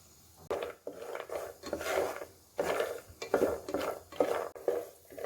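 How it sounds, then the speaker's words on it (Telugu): A handful of peanuts stirred and tossed in a little oil in a pan: repeated scraping and rattling strokes in uneven bursts, close and moderately loud, with no talk. "కొద్దిగా ఒక గుప్పెడు పీనట్స్ ఫ్రై చేసుకుందాం"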